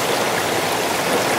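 A mountain creek flows in a steady, loud, broadband rush of water close by, with no voices.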